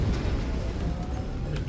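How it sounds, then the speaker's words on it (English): An ammo explosion inside a mech in MechWarrior 5 rumbles as a steady, dense low boom throughout, loud and close, with no voices over it. "Ammo explosion detected."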